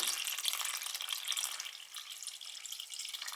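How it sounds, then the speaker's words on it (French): Water pours steadily into a very large salad bowl while cooking seitan, tomato concentrate already inside, a continuous close splashing rush that eases slightly toward the end. "Et à ça, je vais ajouter 1 litre d'eau."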